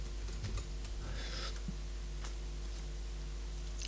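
Light typing on a computer keyboard during a Linux desktop setup, a few scattered soft key clicks over a steady low electrical hum.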